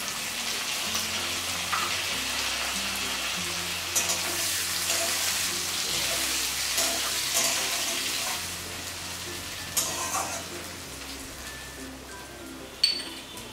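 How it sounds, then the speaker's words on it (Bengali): Onion slices frying in hot oil with tempering spices for a bhetki fish dopiaza, a steady broadband sizzle throughout with occasional stirring clatter, close and fairly loud, with no talking. "heated oil, add temper. Then add onion slices."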